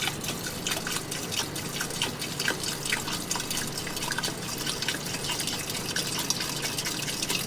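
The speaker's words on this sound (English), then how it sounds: "pour muriatic acid in until you cover the surface of the pins" Muriatic acid poured over a batch of gold plated pins, giving a steady close trickle of dripping and splashing liquid with no voices and no pauses.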